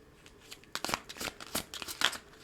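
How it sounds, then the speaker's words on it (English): Tarot cards being shuffled by hand, a close run of crisp, rapid riffling flutters and soft slaps in quick bursts over about two seconds, with no voices. "If you don't like this shuffling, you can always fast forward a little bit."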